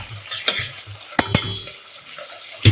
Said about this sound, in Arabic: احنا نحط الفراخ الاول تتشوح وتنزل الميه بتاعتها